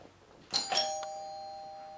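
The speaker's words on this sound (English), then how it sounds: "The doorbell you just heard." Doorbell chiming once at home, a quiet two-tone ding-dong whose second note rings on and slowly fades in an otherwise still room.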